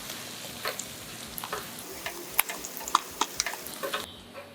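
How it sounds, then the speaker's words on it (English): Japanese tofu frying in hot oil until golden brown, with a steady soft sizzle and scattered crackles and pops, nearby and moderately quiet, no voices. "Fry Japanese tofu until golden brown."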